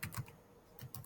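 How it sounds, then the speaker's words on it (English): A few soft, close keystrokes on a computer keyboard, two clusters of light clicks separated by a short quiet gap. "So I'm going to type the word tour there."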